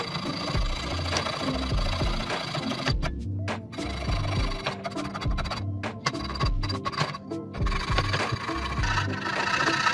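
Hand drill working through a ring blank, close and steady, a continuous grinding rasp with a few brief pauses as the bit is repositioned.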